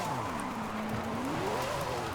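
A mid-engine, high-horsepower drift car in a video game whines, its pitch dipping and then climbing, with a rough hiss of tires sliding sideways throughout.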